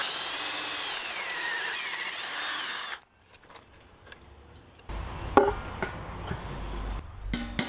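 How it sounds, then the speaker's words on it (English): Power drill boring a cavity into the base of a metal pot for a DIY Solo Stove build, a loud sustained whine for about three seconds, then quieter scraping and knocking sounds of handling the workpiece. "So let me drill that out real quick."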